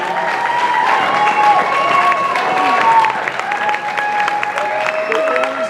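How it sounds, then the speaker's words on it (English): A crowd at the Days of the Dead Burbank 2016 costume contest applauds the contestants. Steady clapping is mixed with voiced cheering and whoops that rise and fall over the whole stretch. "give a round of applause to all of our costumers"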